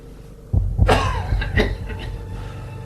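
A man gives two or three harsh, close coughs in quick succession, then the sound fades to quiet room noise.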